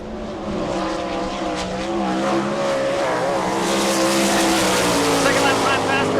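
A World of Outlaws sprint car roars through a qualifying lap at Rossburg, Ohio, its loud engine sustained and steady with rising pitch, while an announcer talks over it.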